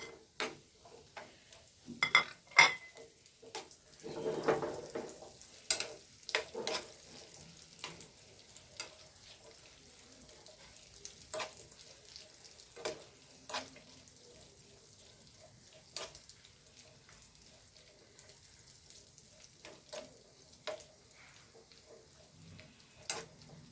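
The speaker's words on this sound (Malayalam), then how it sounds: "അണ്ടിപ്പരിപ്പ് മുന്തിരി വറന്നിരിക്കുന്നത്" Cashews and raisins fry in a pan for payasam, with scattered crackling ticks and soft sizzles popping out irregularly from quiet oil, faint and close throughout.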